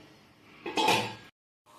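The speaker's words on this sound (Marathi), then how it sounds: "पाणी टाकल्यानंतर कढईवर पाच मिनटं झाकण ठेवायचं" A metal lid set down on a kadhai pan holding capsicum cooking in water: a single short clattering clank, close and fairly loud, then silence.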